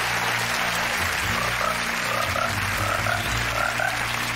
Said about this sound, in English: The frogs will light the way.